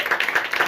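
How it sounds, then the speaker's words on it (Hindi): At a house inauguration in Nalasopara, an audience gives brief, lively applause in honour of Emperor Ashoka, with quick overlapping claps heard from close by. "तो एक बार इनके लिए ताली होनी चाहिए।"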